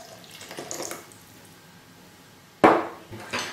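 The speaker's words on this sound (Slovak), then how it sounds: "Cesnak zalejeme olejom a pridáme trochu vody." Oil and a little water poured over blanched garlic in a kitchen, heard as a soft quiet trickle followed by a sudden louder splash and a second brief pour near the end, with no talking.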